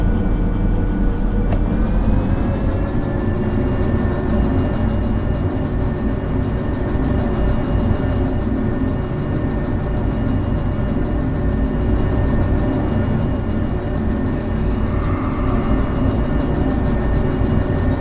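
A locomotive in the Derail Valley train game rumbles forward with a steady, loud engine drone and low mechanical hum that continues unbroken, with no talking.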